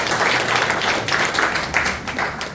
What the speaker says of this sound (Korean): 박수 한번 보내주셨으면 좋겠습니다.